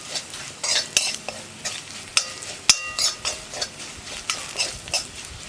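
Crushed chili fries in oil as it is stirred in a pan, a loud continuous sizzle broken by repeated scraping and clinking strokes of a spoon against the metal, close up and without speech.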